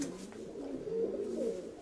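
Pigeons cooing at close range, a soft, low, continuous burbling coo from a loft of fancy breeding pigeons, with no talk over it.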